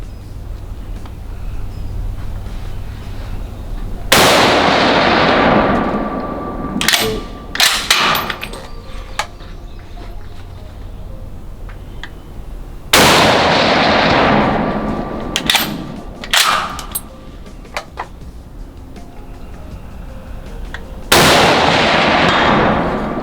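A Swiss K31 surplus rifle fires at a shooting competition, three sharp loud reports spaced several seconds apart, each ringing out and decaying, with metallic bolt clacks and handling noises between shots.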